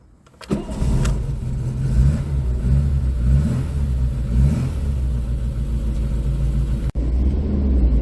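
A 1983 Austin Maestro 1.3 engine starts up and keeps running as a steady, close, low rumble, with slight swells as it revs and pulls away on the road.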